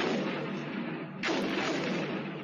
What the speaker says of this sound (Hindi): मिकोलाइव में रूसी बमबारी का वीडियो सामने आया है जो इस वक्त स्क्रीन पर है